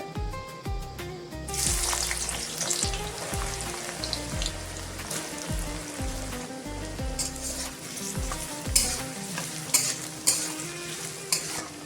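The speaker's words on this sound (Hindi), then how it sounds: "इसी तेल पे मैं प्याज ऐड कर देंगे पहले" Steady sizzling of onions frying in hot oil, with occasional stirring and clinking of a utensil against the pan throughout.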